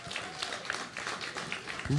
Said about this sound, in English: give us a round of applause here, everybody